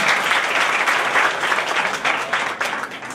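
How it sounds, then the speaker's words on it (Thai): An audience at a Honda and Suphanburi Technical College cooperation event gives dense, sustained applause, loud and continuous with no pauses before tapering slightly at the end. "ขอเสียงปรบมือกับท่านด้วย"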